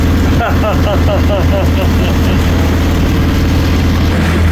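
A deep, steady cruise ship engine rumble drones throughout, loud and constant, with a brief rising whistle-like chirping pattern near the start and faint voices underneath, in the Bahamas.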